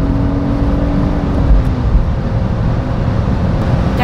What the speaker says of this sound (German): Einmal auf Drehzahl bringen.